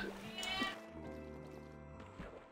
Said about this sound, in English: Don't kill the sheep.